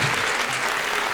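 An audience at a Hindi poetry recital claps steadily in a dense, even burst of applause.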